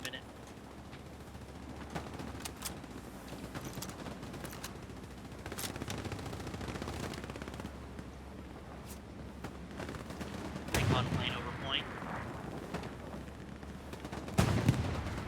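Machine gun fire in the World War II shooter Hell Let Loose, coming from the second floor of a house, with scattered distant gunshots and bursts over ambient battlefield noise and occasional voice chatter.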